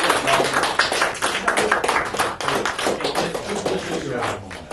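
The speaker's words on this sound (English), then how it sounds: "can you guys just give him a quick round of applause?" A robotics team gives a round of applause: dense, steady clapping from a group that runs the whole time, with voices mixed in.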